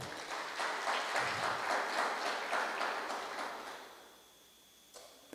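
Congregation clapping during a church service, a lively rhythmic applause of many hands that gradually fades out, followed by a brief clatter near the end.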